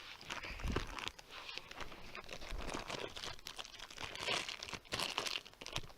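Packaging of a new Blue Snowball microphone is crinkled and crunched during unboxing, a busy, continuous rustle with sharper crackles, close and fairly loud, with no talking.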